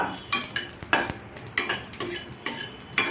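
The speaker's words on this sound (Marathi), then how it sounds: "तुम्ही पाहू शकता जिरे सुद्धा खरपूस भाजून घेणे" Cumin seeds dry-roasting in a pan, stirred in quick repeated scrapes with a faint crackle between strokes, close and fairly loud.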